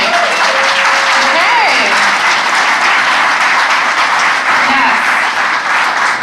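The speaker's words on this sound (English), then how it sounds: "Can we get a round of applause for the food?" Dinner reception crowd at an organics conference applauds loudly and steadily, dense clapping filling the space while a couple of voices speak briefly over it.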